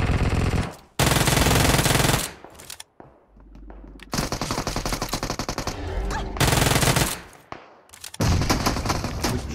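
Loud bursts of automatic gunfire from the mobile battle-royale game PUBG Mobile rattle in long sustained volleys broken by brief pauses.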